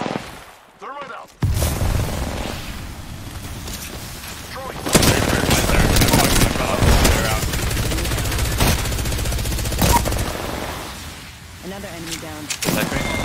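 Rapid bursts of gunfire in the Apex Legends video game crackle loudly and densely, with fast automatic volleys and booming shots, while players talk over the action.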